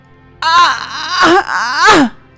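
A woman in labour screams loudly: a long, drawn-out wailing cry broken into three strained bursts, close and piercing, with no other sound around it.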